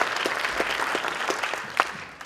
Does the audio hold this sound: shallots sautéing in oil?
no